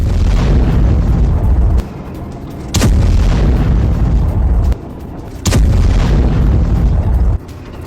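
A Russian T-72 tank fires amid explosions in combat, with loud, heavy booming roars that come in surges, interrupted by two sharp, brief blasts, and no talk.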